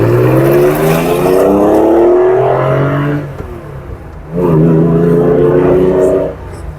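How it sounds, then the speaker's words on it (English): A 1976 Porsche 911 Targa's flat-six engine pulls hard through the gears, loud and close from inside the car, its rising whine dropping at a shift before climbing again. "Nothing really gets that sound of a old school flat 6."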